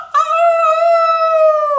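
A human voice imitates a rooster's crow with one sustained, steady, tonal call held for over a second, close and clear, with no other sound around it.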